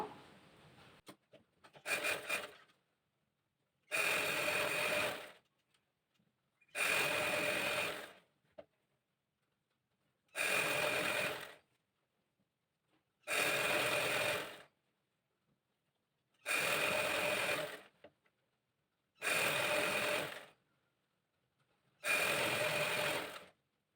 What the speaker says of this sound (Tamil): அப்படியே தையல் ஓட்டிகிட்டு வந்தால் போதும்